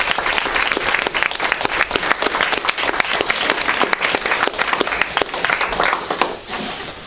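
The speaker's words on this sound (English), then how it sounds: "let's give Jessie another round of applause" A room of listeners gives a round of applause after a senior thesis presentation, loud, close clapping with distinct individual claps standing out, continuing steadily before tapering off near the end.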